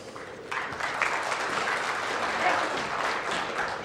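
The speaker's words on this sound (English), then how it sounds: "if you can give a round of applause for Jan and Greg" A keynote audience at a tech conference breaks into applause as presenters are welcomed to the stage, a dense, sustained clapping that swells after a quieter start, with a voice faintly underneath.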